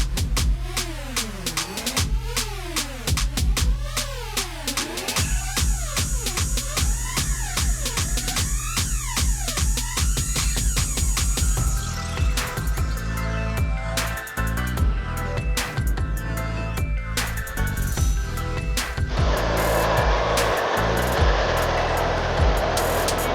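An Eachine EAT15 Lancia Delta rally RC car on drift tires whines through rapid rising and falling electric motor sweeps, then settles into a steadier buzzing run with rough scrabbling noise toward the end; no talk.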